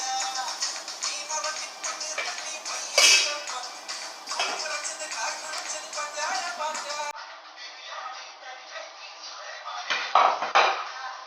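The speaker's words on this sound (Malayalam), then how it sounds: "നമ്മുടെ ക്യാരറ്റ് പോള സർവിംഗ് ഡിഷിലേക്ക് മാറ്റാം" Carrot pola, a Malayalam baked snack, being moved onto a serving dish in a home kitchen: clinks of metal utensils against pans and plates, scraping and tapping in irregular bursts, close and clear, with one sharper clatter.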